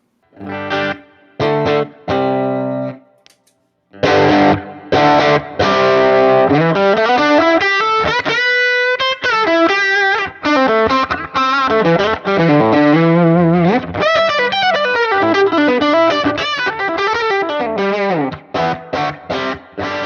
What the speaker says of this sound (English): It's an Echoplex style booster, so imagine something like the EP Booster or the Strymon Deco